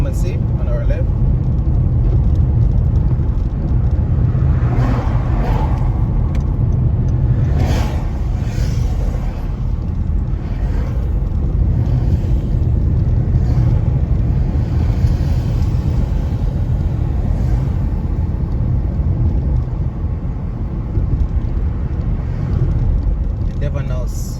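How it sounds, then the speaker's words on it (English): Steady road traffic on a Kingston, Jamaica avenue at 6:30 in the morning, a continuous low rumble of passing cars heard from inside a moving vehicle, with a voice talking over it throughout. "Quite a few cars are already on the road, as you can see, even though it's just 6:30 here in the morning"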